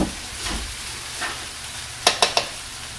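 Oil sizzling in a pan of pad thai noodles with peas, a soft steady frying hiss with gentle stirring scrapes, ending in three quick sharp clanks of a utensil against the pan.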